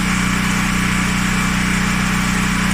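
Electric motor of a clothes dryer spinning during a repair test, a steady loud hum with a fine rapid pulse and constant drone throughout, no voices.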